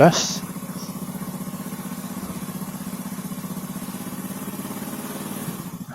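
A motorcycle engine idles with a steady, close, rapid pulsing after a brief opening blip of the throttle, holding an even, stable rhythm for several seconds before a short change near the end.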